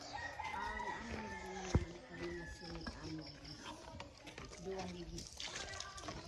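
A chicken clucks and calls intermittently beneath nearby people talking, with some background clatter.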